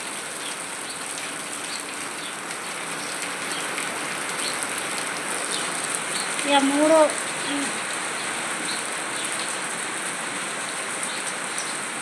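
Heavy rain pours in a steady, dense hiss throughout during Krishna Ashtami, with a brief voice speaking midway over the downpour.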